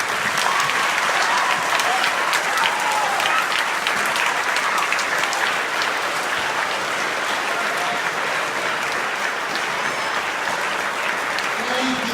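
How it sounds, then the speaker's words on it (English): A large audience in a room claps steadily for standing teachers at an award ceremony for a teacher, with dense, sustained applause for about twelve seconds, a few voices faintly mixed in. "could you please stand up and let's give them a round of applause"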